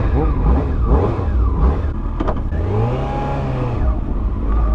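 A loud, close Yamaha R6 sport motorcycle engine roars continuously with rising and falling revs while riding, accompanied by rushing wind noise as the bike moves.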